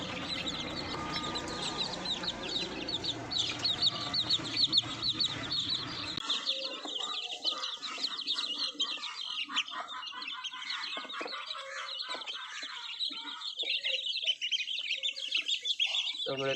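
Village chickens being fed, a busy mix of clucks and chirps from many birds at once, steady and fairly close throughout, with occasional voices nearby.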